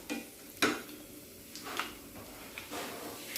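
Chopped ginger dropped into a hot oil tempering for a black gram upkari, giving soft, intermittent sizzles and a few stirring scrapes, fairly quiet and close with no voices.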